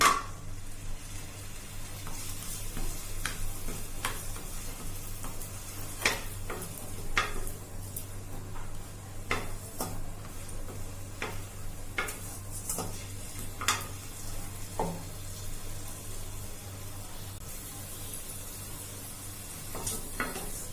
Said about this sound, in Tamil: இதுல பெருங்காயத்தை போட்டு பொரிச்சு எடுத்துக்கலாம்